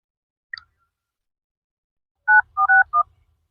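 Mobile phone keypad being dialed indoors in a rural setting: one faint early beep, then a quick run of four distinct DTMF tones, clear and close with no talk.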